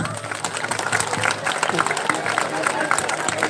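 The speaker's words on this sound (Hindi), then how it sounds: "सभी के लिए तालियां" Students in a school hall clap for everyone after a Ramayana quiz, a dense crowd applause that continues throughout, with voices mixed in beneath it.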